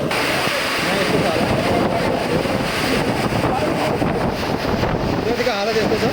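Powerful wind sweeping across a college campus in Tikapur during a storm, a steady loud rushing roar with heavy microphone buffeting, while someone speaks over it.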